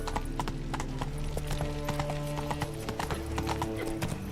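Horse hooves clip-clop steadily in The Witcher 3: Wild Hunt, a continuous rhythmic trot under the game's ambient music and background sounds, with no talk.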